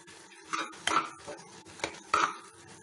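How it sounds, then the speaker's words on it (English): Tomatoes with red chili powder and garam masala being sautéed in a pan, with a few light scraping and clinking strokes of a spoon against the metal, spaced irregularly and close up. "Saute it well."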